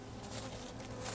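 Honey bees buzz in a dense, continuous swarm drone close by during a spring honey harvest as the bees are brushed off the frames.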